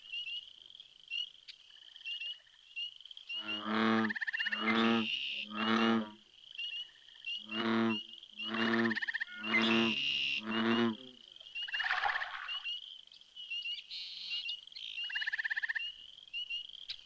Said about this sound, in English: A rhythmic croak to our ears, but to the great blue heron, it is clearly the romantic sound of dinner music